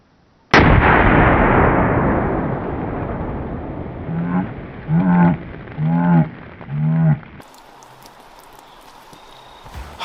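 One thunderous AK-50 rifle shot booms out and rolls into a long fading echo outdoors, followed by a man's excited exclamations.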